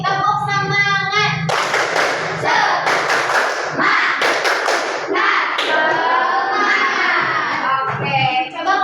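Schoolchildren in a classroom perform a rhythmic clapping chant, several loud bursts of group claps mixed with shouted chanting, and an adult voice speaking before and after.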